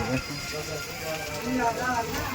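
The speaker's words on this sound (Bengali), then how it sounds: "দেখো বৃষ্টি পড়ছে" Rain falls steadily outdoors, a dense, even hiss of drops that continues throughout with no breaks, while a voice speaks over it.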